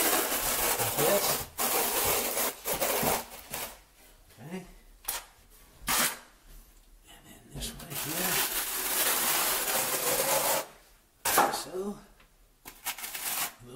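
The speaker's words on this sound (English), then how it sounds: "I'm gonna run my trowel" A notched trowel scrapes and drags thin-set mortar across a surface during a Kerdi shower kit install, giving repeated rasping strokes at close range, with pauses and talk in between.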